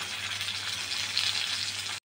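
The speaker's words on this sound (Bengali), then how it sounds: "এবার মাছগুলো অল্প আঁচ দিয়ে ভেজে নেব সুন্দর করে" Fish fries in a pan over low heat with a steady, even sizzle that stops abruptly at the end. There is no talk.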